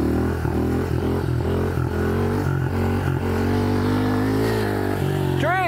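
A 110cc petrol motorbike engine revs hard during a wheelie, a loud continuous buzzing drone with pulsing throttle changes close by, and a brief voice at the end.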